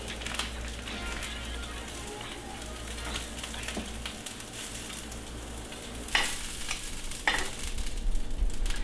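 Sausage frying in a pan for Southern biscuits and gravy, a steady close sizzle and crackle with occasional scrapes and clacks of a utensil stirring it.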